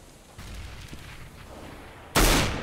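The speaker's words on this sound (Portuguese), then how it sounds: "Acertou-lhe um tirinho." A gunshot in the game CS:GO cracks out loud near the end, a sudden sharp burst after a stretch of quieter in-game ambience and faint earlier pops.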